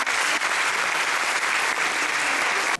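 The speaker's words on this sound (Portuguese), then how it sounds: "uma grande salva de palmas para vocês próprios" Audience applause fills a hall, steady dense clapping from many hands at a constant loud level before stopping abruptly.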